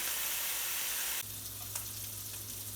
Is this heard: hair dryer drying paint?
no